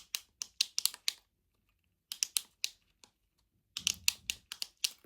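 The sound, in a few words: fidget toy clicking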